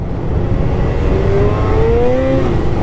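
A Mint 1200 snowmobile engine revs loud and close while riding, a continuous roaring drone with rising pitch sweeps as the throttle climbs.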